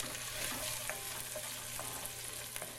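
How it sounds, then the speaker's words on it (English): Onions and garlic sizzle over medium-high heat as seasoning is stirred in for turkey chili, a steady close crackle broken by light scraping stirs. "Of course, I'm going to give this a stir."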